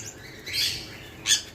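Pet sun conures and finches let out two short, sharp chirps, one soft and drawn out, the next brief and bright, with quiet gaps around them.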